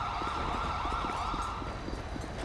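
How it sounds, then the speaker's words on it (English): An ambulance siren wails in a GTA V police patrol game, a steady rising and falling tone fairly distant and moderately loud above a low engine rumble. "It looks like that ambulance is leaving"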